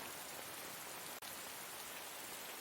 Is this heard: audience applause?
no